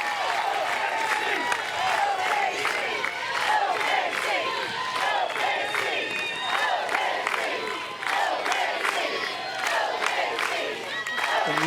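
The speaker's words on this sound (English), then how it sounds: "And you can hear the chants of OKC." Oklahoma Sooners softball crowd at a Women's College World Series qualifying game against Northwestern, chanting rhythmically with cheers and claps, a loud sustained roar of many voices with a play-by-play voice faintly underneath.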